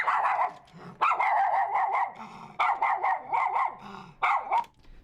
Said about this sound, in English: Play the authentic miniature schnauzer.